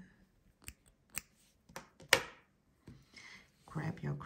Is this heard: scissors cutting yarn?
yes